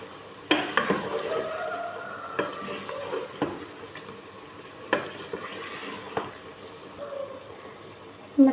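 Spices and whole red chilies for haleem are stirred in hot oil, with a low sizzle under scattered scraping strokes and a few louder knocks of the spoon against the pan, heard close with no talking.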